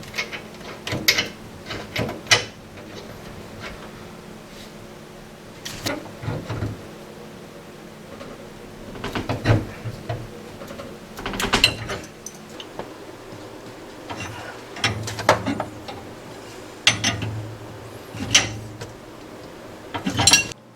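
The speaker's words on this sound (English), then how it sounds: "So now we're going to put on the flex connector." A flex gas connector being fitted onto a gas cooktop, heard as scattered metallic clicks, clanks and scrapes of fittings and tools, coming in irregular bursts with quiet gaps between.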